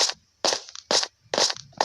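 Blocks broken with a stone sword in Minecraft, a run of about five sharp, crunching hits in a steady rhythm, each loud and close with short gaps between.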